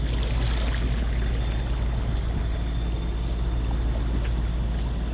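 A sailboat motors under engine through calm doldrums on a Hawaii passage, a continuous steady engine drone mixed with rushing water along the hull, loud and unbroken throughout.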